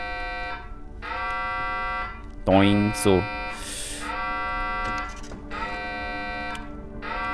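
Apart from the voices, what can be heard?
alarm buzzing in the video game Heavenly Bodies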